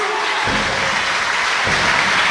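A wrestling crowd roars and claps at a match, a thick, continuous wall of cheering and applause that stays loud and even throughout, with a couple of deeper swells beneath it.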